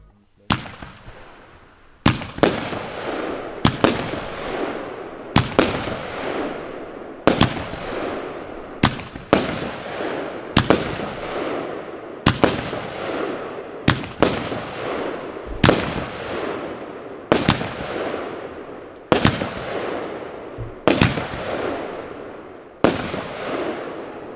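Lidl Pretty Heaven fireworks battery firing 13 shots, each a sharp loud launch bang followed by crackling bursts, spaced at a steady rhythm of about two seconds, with no one speaking.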